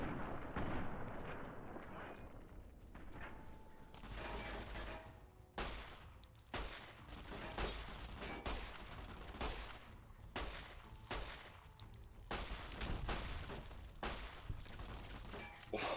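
Gunfire in Fallout: New Vegas, with dense, repeated shots and booming impacts going on throughout in a continuous fusillade. A few faint voices are heard underneath.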